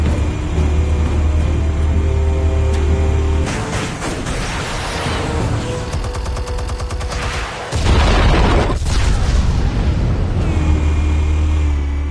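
Explosives detonating in Telltale's Batman, a loud continuous barrage of blasts and rumbling booms layered over a deep engine-like drone, with a sharp cut and renewed surge partway through.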